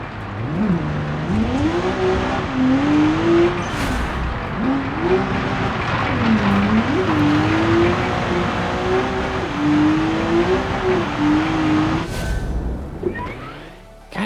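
A car engine in the BeamNG driving game revs steadily with a warbling, rising and falling drone through repeated gear-like surges, then cuts out near the end, leaving a brief scrape.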